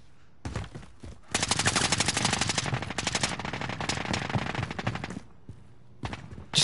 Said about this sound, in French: Tu sais pas si ça tire vers toi ou si ça tire partout